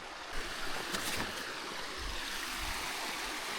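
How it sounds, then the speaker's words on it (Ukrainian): A small mountain stream flows nearby, a steady broadband rush of water with faint gusts of wind, continuous and fairly soft with no talk. "Ось потічок маємо воду"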